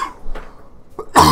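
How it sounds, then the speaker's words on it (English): A person with a cold coughs several times in quick, short bursts, close to the microphone, ending in one louder harsh cough. "sorry about the coughing"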